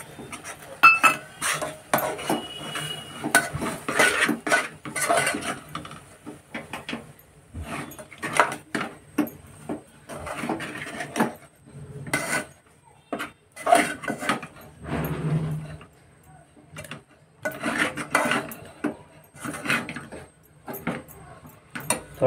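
Rice flour poured gradually into boiling water in a pot and stirred for ukadiche modak dough, heard as irregular metallic clinks and scrapes of a spoon against the pot, close and varied, with pauses between bursts.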